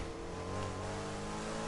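A car engine in the Need for Speed Heat racing game drones steadily at high revs during a race, a brief, even, fairly loud roar with no talk.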